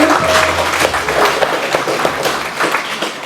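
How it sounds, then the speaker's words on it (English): Guests applaud at a retirement celebration for the Suffolk Art League's executive director, a steady wash of clapping from a crowded room with a low hum beneath. "give everybody a big applaud"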